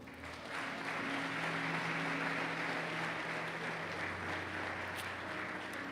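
Church congregation applauding together, a steady dense wash of clapping sustained throughout, with a low hum of instruments or organ underneath.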